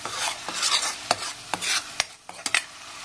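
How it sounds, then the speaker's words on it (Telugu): Onion paste frying in a pan, made from medium-sized onions, with a steady sizzle broken by sharp stirring scrapes and spoon clinks against the pan, close and fairly loud with no talking. "బాగా ఉల్లిగడ్డ వాసన పోయే వరకు మనం దీన్ని వేయించుకుందాం"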